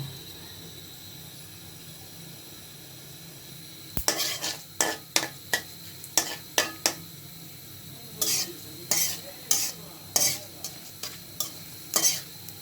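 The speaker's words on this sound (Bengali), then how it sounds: "দিয়ে দিলাম সরিষা তেল দিয়ে দিলাম শুকনা মরিচ তিনটা শুকনা মরিচ দিয়ে দিচ্ছি পাঁচফোড়ন" Three dried chillies and panch phoron sizzling in mustard oil for a sweet-sour tomato chutney, a quiet pan that bursts into a loud crackle, then repeated sharp spatula scrapes and clinks against the pan.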